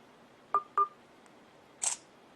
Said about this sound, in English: press it the rest of the way to take the photo